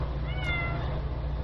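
A cat meows once, short and fairly close, over a steady low hum from a stopped Petmate pet water fountain.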